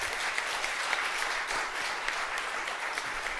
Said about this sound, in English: if everyone would join me in giving them their first round of applause